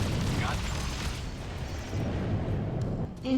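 In the space combat game Freelancer, a missile strikes a ship with a dull, rumbling explosive boom that fades into a low roar. Speech is heard around the impact.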